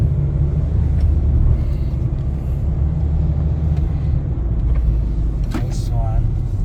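Hyundai Tucson 2019 diesel SUV on the move, a steady low engine and road rumble heard from inside the cabin, continuous and fairly loud, with brief faint voices over it.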